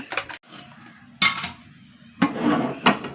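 Dosa batter being beaten in a metal pot, several sharp clattering bursts of a utensil knocking against the pot, close and loud with brief pauses between.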